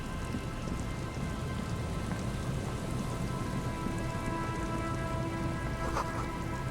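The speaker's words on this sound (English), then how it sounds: "Well, it's also actively raining." Steady rain pours down in Disco Elysium, a broad continuous hiss of drops on surfaces with faint rumbles beneath, even and unbroken throughout, with no voices.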